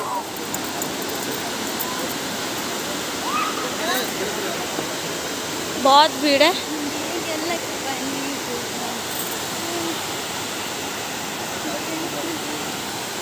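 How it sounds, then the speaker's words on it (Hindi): A waterfall at a pool pours with a steady, constant, heavy roar of rushing water, while people talk over it and a brief chirp sounds midway. "इधर से झरना गिर रहा है बहुत भयानक बहुत जोर शोर"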